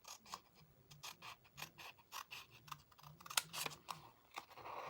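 Scissors snip a small piece from a sheet of junk mail paper, a run of crisp close cuts with rhythmic blade clicks, no talking.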